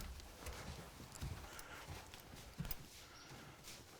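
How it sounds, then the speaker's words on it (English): Horse moving around during groundwork training, quiet scattered hoof clip-clops and shuffling steps at a moderate distance over faint background noise. "if the horse gets nervous of this, we go back down again and we ask the horse to move around."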